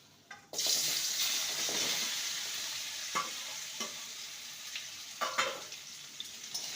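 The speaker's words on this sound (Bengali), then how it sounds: "তেলটা ভালো মতন গরম হয়ে গেছে এবার কচুগুলো ছেড়ে দেবো" Pieces of taro root hit hot oil at once, bursting into a loud sizzle that settles into steady frying with a few sharp scrapes of stirring, no voices.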